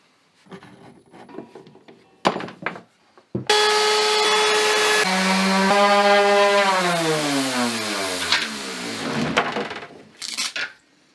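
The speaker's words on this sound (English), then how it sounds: "I will take this round over bit here and round over these edges" A router fitted with a round-over bit whines up to a loud, sustained high-pitched scream and cuts along the edges of a rustic raw-lumber desk top, pitch dipping as the bit bites the wood, preceded by brief handling knocks.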